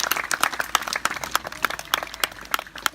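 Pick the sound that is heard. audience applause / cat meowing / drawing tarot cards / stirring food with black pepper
audience applause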